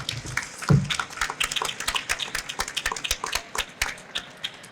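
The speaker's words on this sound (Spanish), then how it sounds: "aplauso para Ale, por favor" Audience at a book presentation applauding for Ale, scattered claps from a modest crowd at moderate distance, continuous and uneven, with no voices over it.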